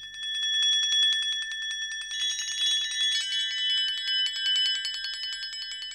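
Rolled metal percussion from a Spitfire Audio Kontakt sample library: a rapid, shimmering tremolo of bright bell-like strikes runs continuously for several seconds, swelling slightly as the pitches shift, with no voice.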